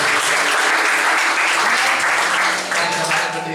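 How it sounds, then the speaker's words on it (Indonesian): Congregation applause during a church service, a loud, dense burst of clapping from the crowd that holds steady and then tapers slightly near the end. "Tepuk tangan yang meriah buat Tuhan."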